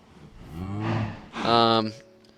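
Cows in the Minecraft video game give two drawn-out moos in quick succession, loud and close, with no talk over them.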